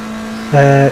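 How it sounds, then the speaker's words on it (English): A GT race car engine in a racing video game drones steadily, then jumps abruptly into a louder, higher over-rev on a downshift before dropping back. "It is over revving on downshifts, probably."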